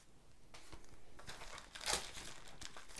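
Scrapbooking kit packaging torn open by hand: a few seconds of close crinkling and ripping of plastic and paper, with one sharper loud tear in the middle.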